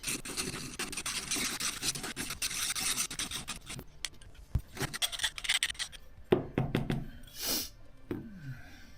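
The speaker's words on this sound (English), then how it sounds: "So I think the layer of paint is too much. I will just sand some down." Paint is sanded off a part of a GHM-9-G gas blowback airsoft SMG: steady close rubbing and rasping at first, then shorter uneven strokes with a few light knocks and handling noises.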